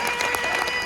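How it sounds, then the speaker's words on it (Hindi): Audience applause breaks out at a retirement farewell gathering, a brief, steady burst of many hands clapping together with no pauses. "आपकी तालियों में कोई कमी नहीं होनी चाहिए।"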